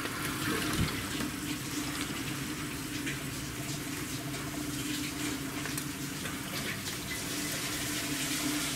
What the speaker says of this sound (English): So having all the faucets on, I'm able to flush all the flux out of the copper.